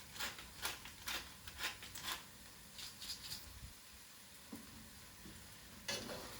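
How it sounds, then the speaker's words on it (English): Eggplant being stirred in a pan on the stove, a series of scraping strokes over a steady sizzle, with a final stroke after a quiet pause. "I'm going to stir it."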